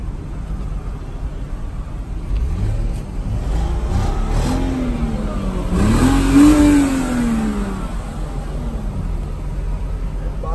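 A car engine at a local auction of mostly foreign cars revs up and sags, bogging down mid-pull, with rising and falling engine tones close by and loudest near the middle.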